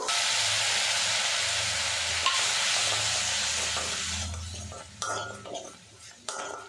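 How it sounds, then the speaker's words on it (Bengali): Spice paste for egg curry fries in hot oil with a steady, hissing sizzle, which fades toward the end as a spoon stirs and clinks against the pan. "মশলাটা ভালো করে কষিয়ে নেব যতক্ষণ না তেলটা আলাদা হয়ে যাচ্ছে"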